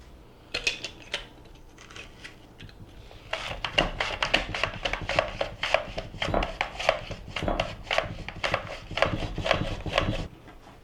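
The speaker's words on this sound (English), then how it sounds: "So here's all my onions, all sliced, perfectly sliced." Knife slicing through onions on a cutting board for pork, onion and cheese enchiladas, a long run of quick, crisp chopping strokes close up, steady and rhythmic after a brief sparse start.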